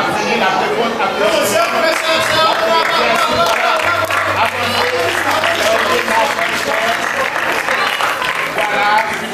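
An audience at a church Christmas party claps loudly and steadily for several seconds, with crowd chatter mixed in and a voice speaking over the applause.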